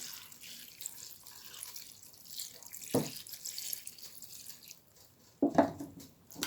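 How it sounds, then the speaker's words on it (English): Water running from a tap splashes intermittently over vegetables being rinsed of salt water, with two louder bursts of pouring near the end, close and fairly quiet overall. "I'm gonna pour some fresh water on these now"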